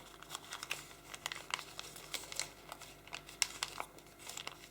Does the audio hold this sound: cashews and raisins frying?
no